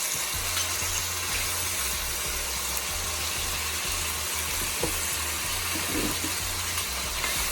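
Vegetables for ackee and saltfish fry in oil in a pan, giving a steady, moderately loud sizzle with a faint low engine-like hum beneath and a couple of soft stirring scrapes.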